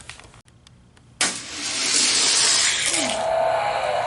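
Hot Wheels die-cast toy cars, a Corvette against a Porsche, roll side by side down a downhill drag-racing track. A quiet lead-in gives way at about 1.2 s to a loud, steady rolling rush that lasts to the end, with no talk.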